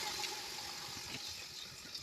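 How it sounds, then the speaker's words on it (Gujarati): Water is poured into a simmering Kathiyawadi vegetable curry gravy, a faint, steady splashing hiss that runs evenly throughout, with no voices. "તો આપણે પાણી નાખીશું."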